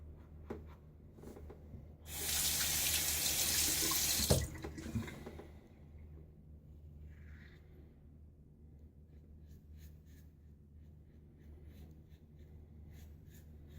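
Water running from a tap to rinse a razor, a steady gush lasting about two seconds and then cutting off, followed by faint quiet handling sounds.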